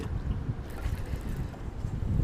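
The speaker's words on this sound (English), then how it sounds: "Wind is making it difficult." Wind buffeting the microphone outdoors while fishing, a low rough rumbling roar that flutters continuously and fairly quietly with no other sound standing out.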